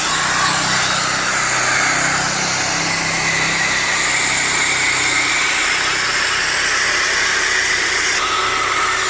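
A homemade line boring machine driven by a 2,800-watt stand drill runs at a steady, loud, high-pitched whine with a hissing, grinding edge, continuous and close for the whole stretch with no speech.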